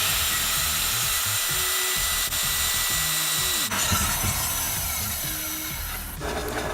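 Steady, close sawing through MDF board, cutting a saddlebag rack base and cover together, a continuous rasping cut with slight shifts in pitch, running without pause from start to finish.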